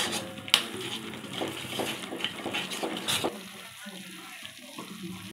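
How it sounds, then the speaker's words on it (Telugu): Hot oil pours into a Mysore Pak mixture in a kalai, giving a bright sizzle and frying hiss with stirring scrapes. It is loudest in the first three seconds and then settles to a softer crackle. "వేడి నూనె కాసుకున్నాం కదా, అది పోసుకోవాలి."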